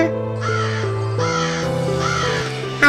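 A crow caws three times in a children's story about a thirsty crow; the harsh, rasping calls come evenly spaced over steady background music.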